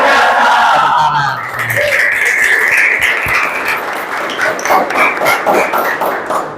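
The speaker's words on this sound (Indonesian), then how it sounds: "Tepuk tangan." A crowd at a vocational technology high school claps and cheers loudly, with shouting voices over dense, continuous clapping throughout.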